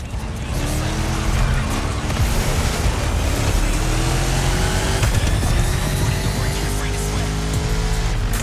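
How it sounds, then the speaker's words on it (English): A loud, roaring 1969 Ford Mustang Boss 429 engine in a racing video game revs and shifts continuously, with rising and falling pitch sweeps and occasional tire squeal. "You're driving my #1 car, the star of my collection, the 1969 Mustang Boss 429."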